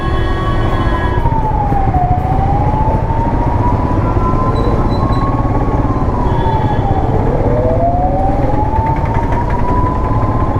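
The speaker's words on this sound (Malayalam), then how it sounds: "ഫയർ എഞ്ചിൻ എന്ത് സീനാണല്ലോ. എമർജൻസി ആയിട്ടാണല്ലോ പോണേ." A fire engine siren wails in long rising and falling sweeps on an emergency run, loud and close, over steady road and traffic rumble with no talking.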